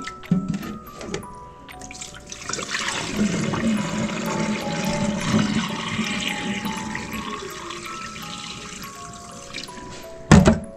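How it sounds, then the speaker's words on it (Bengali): Broken rice is rubbed and washed in water, a sustained watery swishing and sloshing with drips, ending in a brief sharp splash. "একটু কচলে ডলে ভালোভাবে ধুয়ে পরিষ্কার করে নিচ্ছি।"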